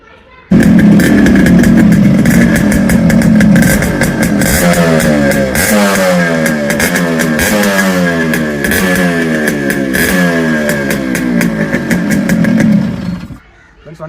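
A Yamaha RX100 two-stroke motorcycle engine runs close by, settling into a steady idle and then revving in repeated rising bursts before cutting off near the end.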